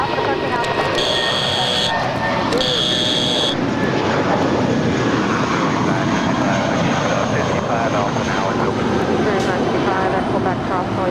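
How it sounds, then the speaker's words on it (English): A 30-year-old FedEx MD-11 freighter jet taxis at Los Angeles airport with a loud, continuous engine roar, two bursts of electronic tone early on, and radio talk mixed in. "This is FedEx 518 coming in from Memphis. It's a 30-year-old MD-11 freighter."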